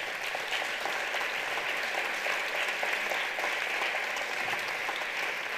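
Applause from the audience at an awards gala, a steady distant patter of many hands clapping, soft and even, with no voices over it.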